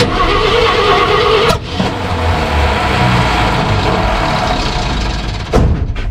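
A 1968 Ford F100 junkyard truck with wrong firing order cranks continuously with a loud, dense churn, spitting back in sharp pops near the start and end.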